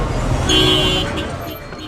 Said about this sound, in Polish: Co jednak ważne, jest klakson. Tu wszyscy nadmiernie go używają.